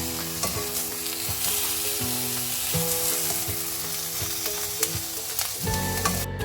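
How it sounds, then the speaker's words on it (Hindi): Eggplant fries in hot oil in a pan with a loud, continuous sizzle and crackle, while bursts of stirring and the scrape of a utensil come through near and clear, with no talking. "बैंगन को आपने इतना फ्राई करना है कि इस पे एक प्यारा सा गोल्डन ब्राउन कलर आ जाए"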